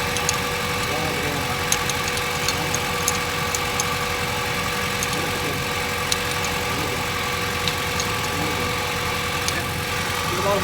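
A Honda Civic engine idles roughly, steady with a faint uneven knock and ticking, running continuously at moderate level with no voices.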